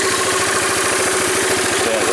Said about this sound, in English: rear brake, idling a little high at the moment